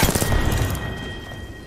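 Frag grenade explosion followed by gunfire in the video game Apex Legends, a loud, dense burst of blasts and shots that fades out within about a second.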